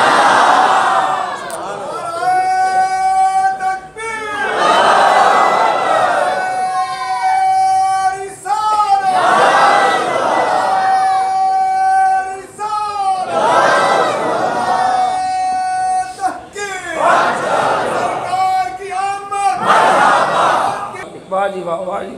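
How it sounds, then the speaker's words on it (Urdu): A large religious gathering answers with loud chanted slogans in repeated collective bursts, voices rising and falling together in waves, with sustained tonal cries and cheering filling the space. "نعرے بھی لانے نے تے جواب خوش ہو کے دینا ہے"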